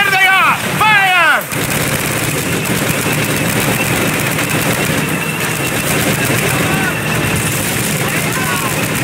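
Sustained machine gun fire rages in the trench battle of the 2004 PC game Call of Duty: United Offensive, a dense continuous clatter lasting most of the clip after shouted commands in the opening second.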